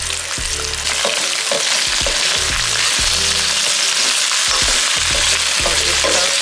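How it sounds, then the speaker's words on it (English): Fried rice for salmon hibachi stir frying in a pan: loud, constant sizzling broken by rhythmic scraping strokes of a spatula about once a second, with no talk. "Let this stir fry."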